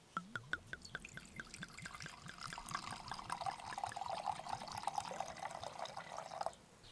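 Wine poured into a metal cup outdoors at a camp, a close liquid trickle with dripping splashes that steadies into a continuous fill for several seconds before stopping abruptly.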